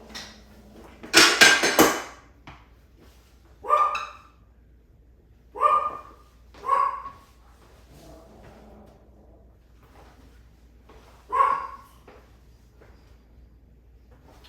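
A dog barks close by: a quick cluster of loud barks, then single sharp barks spaced a few seconds apart, with quiet gaps between them.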